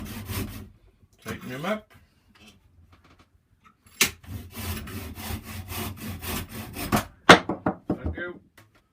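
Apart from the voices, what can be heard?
hand saw cutting off the end of a walking stick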